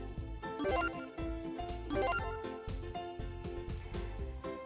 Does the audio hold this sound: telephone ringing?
yes